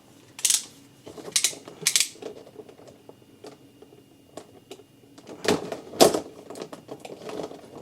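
Packing tape torn off a cardboard box holding a Bandai Warhammer 40K Salamanders Intercessor figure, heard as several sharp ripping bursts, three early in quick succession and two more later, separated by quieter rustling and handling.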